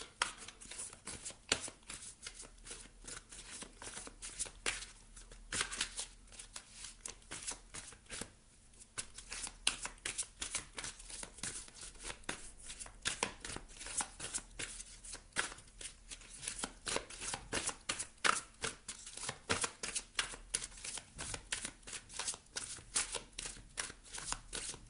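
Tarot oracle cards being shuffled by hand in a steady run of crisp riffles and slaps, close and continuous for about 25 seconds with no talking.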